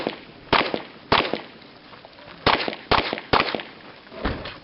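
Revolver shots at an outdoor pistol match, six sharp loud cracks fired at an uneven pace over a few seconds, with faint background noise between them.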